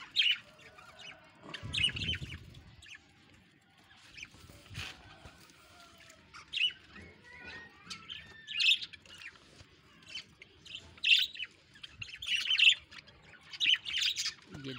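Pet birds, Java sparrows, chirping and squawking while eating soft food, with scattered bright calls repeating irregularly over a quiet background and an occasional low rustle nearby.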